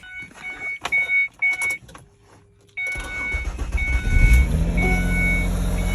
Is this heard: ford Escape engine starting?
yes